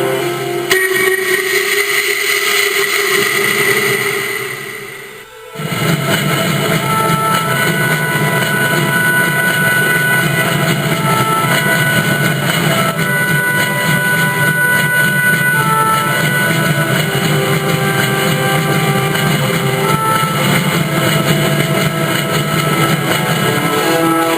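A train rumbles steadily close by for a long stretch after a brief dip in noise, with rolling wheel noise and a faint high whine.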